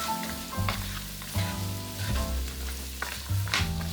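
Baby carrots and celery stalks sizzle in a hot pan while being tossed, with close frying hiss punctuated by repeated scraping and clattering of vegetables against the metal.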